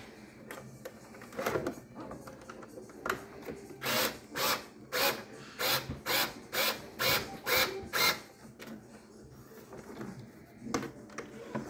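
A power tool tightens locking nuts on a Tbone exo cage fitted to a Kaiju, giving a run of about eight short, rhythmic bursts in quick succession, fairly close, with softer handling noise before and after and no talk.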